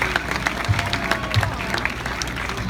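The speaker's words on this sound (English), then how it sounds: "How about a big round of applause for Tom?" Audience clapping for a performer at a live show, brisk scattered applause under a speaker's amplified voice talking over it.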